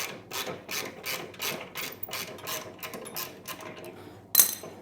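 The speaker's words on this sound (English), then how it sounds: "Just back these bolts out." A quarter-inch Allen wrench backs out the fender bolts on a Harley-Davidson motorcycle, a rhythmic series of rasping, ratcheting turns up close, ending in a sharp metallic clink.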